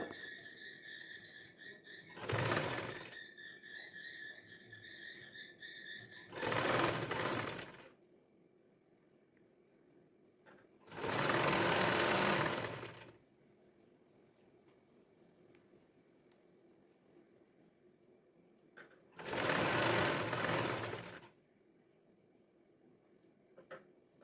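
A sewing machine stitches a baby frock in four short, separate bursts, each lasting a second or two. Quiet gaps with a faint background hum fall between the bursts.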